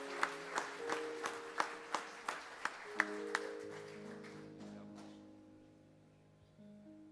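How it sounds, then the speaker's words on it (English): Church congregation clapping hands in praise after a Pentecost service, a run of about ten sharp, evenly spaced claps over sustained organ chords, the claps stopping partway while the organ carries on and slowly fades. "Give God a hand clap of praise as your pastor comes"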